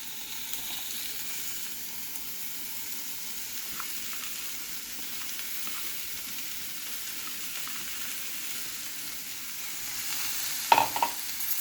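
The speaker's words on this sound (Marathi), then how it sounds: "परतून घेते हे सगळं मंद विस्तावावर करतोय" Chopped vegetables with hadga (agati) flowers sauté in a pan over low heat, giving a steady soft sizzle with occasional stirring scrapes and a brief louder clatter near the end.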